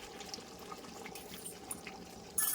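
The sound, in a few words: pouring whipped yogurt into spiced meat while cooking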